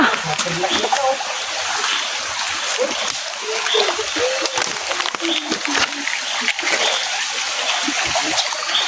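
Feet splash and slosh through water in a continuous, close, noisy stream of small splatters, with voices talking partway through.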